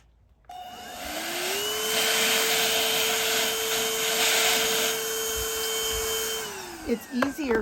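A vacuum cleaner sucks loose dirt from a succulent pot, starting up with a rising whine, then holding a loud steady roar with gritty rattling before winding down.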